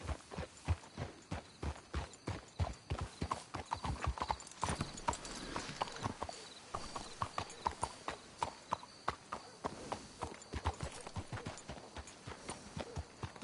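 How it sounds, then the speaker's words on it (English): Horses clip-clopping in Red Dead Redemption 2, a steady run of hoofbeats with a rhythmic gait that slows and softens midway, then picks back up, with no talk over it. "Let's hitch the horses up ahead."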